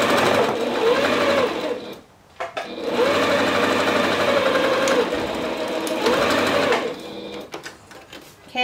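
A sewing machine stitches knit fabric in long steady runs with a whirring, rapid mechanical hum, broken by brief pauses and a short stop-start back stitch near the middle.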